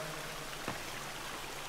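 Water in The Forest video game flows steadily as a broad, even rushing hiss like a stream, continuous and moderately quiet, with one brief soft tap near the middle.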